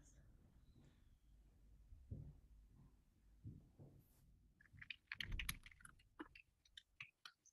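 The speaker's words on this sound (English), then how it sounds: "I'm typing, making some notes for myself." Soft computer keyboard typing comes in a burst of quick irregular clicks after a stretch of quiet, low murmuring voice, fairly faint and close.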